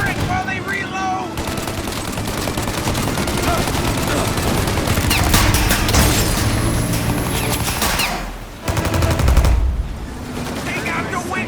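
A mounted turret fires sustained, loud machine-gun bursts in a 1930s gangster shootout in Mafia: Definitive Edition. The rapid crackling volleys go on almost without pause, with brief lulls and shouting voices mixed in.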